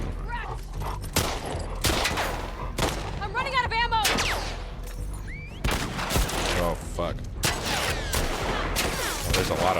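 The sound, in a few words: gunfire in The Last of Us Part 2 video game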